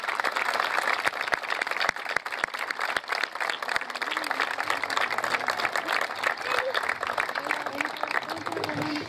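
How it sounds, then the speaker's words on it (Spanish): A crowd claps at an outdoor housing handover ceremony, a continuous moderately distant wash of applause with scattered sharper claps, mixed with cheers and voices, lasting throughout. "yo me permito pedir un aplauso, pero un aplauso grande, grande para todos ellos"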